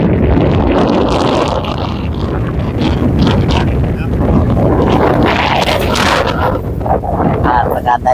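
Outdoor wind buffets the microphone in loud, continuous gusting rumbles that surge and ebb, while a voice talks underneath.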